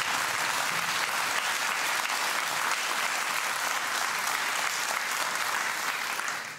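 A studio audience at a German television cooking show applauds, a broad, even roar of many clapping hands that holds steady for several seconds before easing off slightly at the end.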